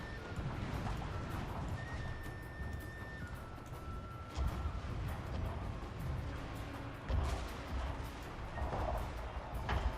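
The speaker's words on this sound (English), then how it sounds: "the bombardment is coming in pretty soon" Artillery bombardment during a Fall of the Samurai battle: a dense, rumbling din of distant booms and battle noise, with a few heavier thuds standing out, steady throughout and no talk.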